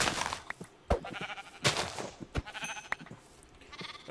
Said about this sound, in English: They're not my sheep, so I don't...